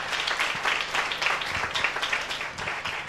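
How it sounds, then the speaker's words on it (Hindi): A church congregation at a Sunday meeting clapping together after a prayer, a dense patter of many hands at moderate distance that holds steady throughout. "एक जोरदार ताली देते हैं परमेश्वर की महिमा को।"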